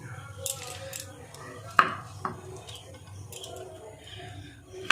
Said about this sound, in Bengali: চারটে আলু আমি পিস করে নিলাম।